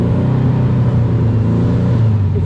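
A 1970s VW Beetle, long abandoned, drives in first gear with its air-cooled engine droning loud and close, a steady throaty hum holding at one pitch and dipping slightly toward the end.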